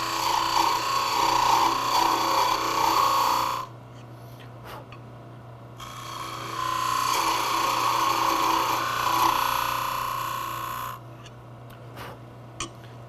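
Wood lathe turning a Christmas ornament as a tool cuts a tenon to an even diameter: two sustained bursts of scraping, hissing cutting over a steady motor hum, with a quieter pause between them and light taps near the end.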